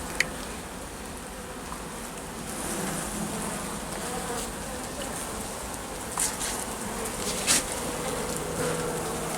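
Black honey bees buzzing at a hive during autumn preparation for wintering, a dense steady drone close by with occasional louder passes of single bees near the ear.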